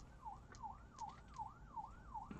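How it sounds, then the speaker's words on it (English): A fire truck siren wails outside in a quick repeating up-and-down yelp, faint and distant through the walls, cycling several times with no voices over it. "no, that's a fire truck"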